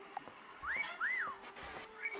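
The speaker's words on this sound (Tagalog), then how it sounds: "Sumipol na." Two clear rising-and-falling whistles sound in quick succession, with a faint third after them, over quiet game ambience in Meccha Chameleon.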